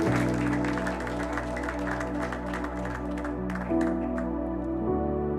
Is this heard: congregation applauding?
yes